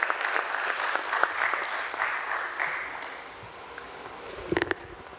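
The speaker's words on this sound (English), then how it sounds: "A nice big round of applause, ladies and gentlemen, for Mr. Dhruv Shringi." Audience applause at a stock exchange listing ceremony for a company at BSE, a sustained round of clapping from a moderate crowd that fades slightly before a few sharper claps at the end.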